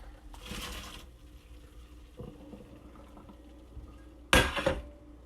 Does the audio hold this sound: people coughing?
no